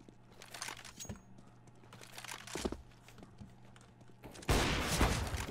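AK rifle fire in a wall-hack game match, scattered short bursts and single cracks coming at irregular moments, then a loud, dense volley of shots near the end.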